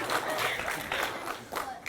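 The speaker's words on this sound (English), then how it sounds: "let's give him a round of applause, guys." An audience at an elementary school Red Ribbon Week program applauds, dense clapping from a crowd close by, with faint voices mixed in under the claps.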